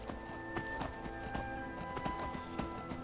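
Horse hooves clopping in an irregular rhythm as a horse climbs a steep mountain in Skyrim, fairly close and steady, with a constant tonal game backdrop beneath.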